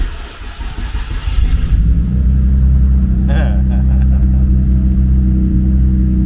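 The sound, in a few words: Nissan Skyline GTR engine heard from inside the car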